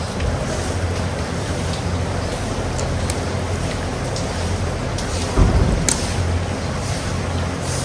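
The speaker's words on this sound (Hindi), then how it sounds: "आप हमको बता रहे हो बहुत खतरनाक बारिश हो रही है?" Heavy rain hisses steadily over a farm, a dense unbroken wash of noise, with a brief louder rumble of thunder near the end.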